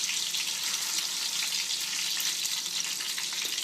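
Ham frying in a pan for Cuban-style black beans gives a steady, close sizzle that holds evenly throughout with no talking.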